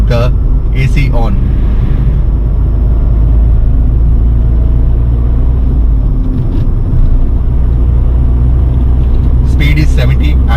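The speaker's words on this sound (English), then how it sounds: "So now I'm into fourth gear and let's see how it picks up with the AC on." A Tata Tiago BS6 2021 car pulling in fourth gear with the AC on, its engine giving a loud, steady low rumble from inside the cabin, with brief higher noises near the start and end.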